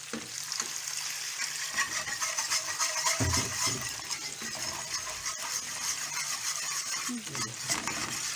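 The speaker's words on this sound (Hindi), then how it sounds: "अब मैं ये सूप जो है थोड़ा थोड़ा करके डालूँगी और मिक्स करूँगी।" Soup poured little by little into flour fried in butter and stirred in: a continuous bubbling sizzle with scraping stirs and light clinks throughout, close and moderate in level.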